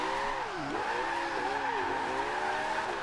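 A Porsche 918 hypercar power sliding in Forza Horizon 2, its tires squealing in a loud continuous skid that bends in pitch as the car swings through the corner.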